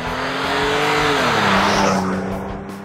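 Toyota 4Runner 4.0L fitted with a Flowmaster Force II stainless cat-back exhaust, single tailpipe, 70 series muffler, heard as a loud steady engine drone whose pitch rises and then settles as the vehicle passes, with tire noise.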